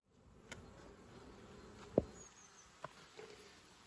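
Honey bees buzzing around a hive in February, a faint steady hum with a few brief insect-like ticks and clicks, no talk.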